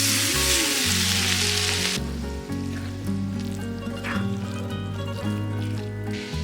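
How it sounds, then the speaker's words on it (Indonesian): Sambal bajak fries in hot oil with a steady, loud sizzle and crackle, heaviest at first and then settling into a continuous hiss as the chili mixture cooks. "Sekarang Bunda panaskan dulu minyak. Nah, ini minyak yang sudah Bunda panaskan."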